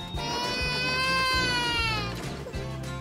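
A baby cries loudly and insistently in a doll-play scene, one long wailing cry that rises and falls before trailing off, followed by a short fresh sob, with rhythmic background thumps underneath.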